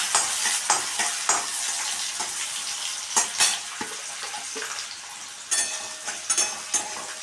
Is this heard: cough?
no